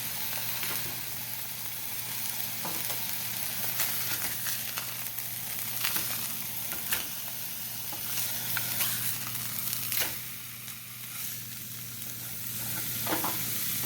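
Pre-formed Walmart hamburger patty frying in a pan with minced onions: a steady, close crackling sizzle throughout, punctuated by occasional spatula scrapes and taps, with no speech.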